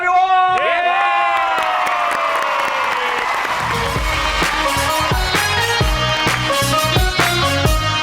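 A TV talk show studio audience claps and cheers to welcome a guest, with whoops rising over a loud, bright musical sting that fades into the crowd noise.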